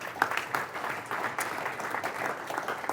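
Audience at a business talk applauding event sponsors, a moderate spread of clapping from a seated crowd, somewhat distant and fairly steady with a few sharper claps standing out.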